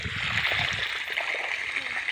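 Water flowing steadily while a farm field is irrigated outdoors, a continuous gushing, splashing wash with low voices talking faintly underneath.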